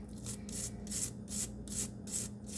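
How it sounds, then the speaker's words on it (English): A denture brush scrubs old grit off tumbled rocks between tumbling stages, in close, rhythmic bristly strokes, about six or seven scratchy passes in quick succession with no talk. "brush this all out, make sure I get all the old grit off"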